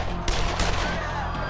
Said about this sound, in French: lorsque de terribles coups de feu retentissent